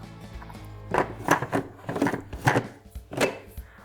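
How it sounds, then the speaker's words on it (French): A food mixer blends stale bread with a hazelnut mixture, giving several short, chunky pulses of rattling, grinding noise in an uneven rhythm. "Je vais mixer encore une fois."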